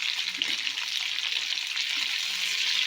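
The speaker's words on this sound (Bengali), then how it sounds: "এবার দিয়ে দেবো রসুনটা, পুরোটা দেবো না, কিছুটা দেবো, 1 চামচের মতো।" Garlic dropped into hot oil with capsicum, giving a bright, continuous crackling sizzle, close and even for the whole moment.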